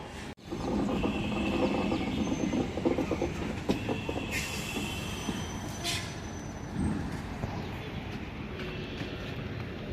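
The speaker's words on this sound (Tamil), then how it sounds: "இந்த டைமுக்கு ஒரு செங்கல்பட்டு லோக்கல் வந்தாகணும்." A Chengalpattu local train arrives and runs through a station, its steady loud rumble and wheel noise lasting throughout, with brief squeals and clatter over the top.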